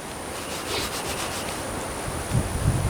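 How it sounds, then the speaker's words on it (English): Dry grass crumbled and rubbed apart by hand outdoors in wind while setting a coyote flat-set trap: a close, steady dry rustling scrape for about three seconds, with a couple of soft low thumps near the end and no talking. "take some of this dry grass like this, just rub it in your hand, and it'll just fall apart in your hand"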